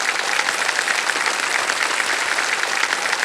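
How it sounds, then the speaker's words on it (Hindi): Studio audience applause on a televised quiz show set, steady dense clapping from a large crowd holding at an even level throughout, with no talk over it. "तालियां बज जाए इनके लिए।"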